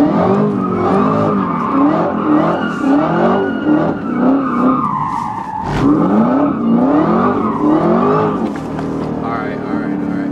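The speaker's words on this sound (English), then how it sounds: "First time doing a donut in the Z." Chevrolet Camaro ZL1 spinning a donut with stability control off, its engine revving hard and rising and falling in steady cycles while the tires squeal loudly and continuously, close by.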